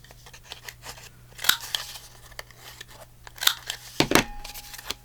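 Scissors snip through paper tags in a mixed-media craft session. The cuts come as sharp, close crunching snips, scattered and irregular, with quieter rustling between them and no voices.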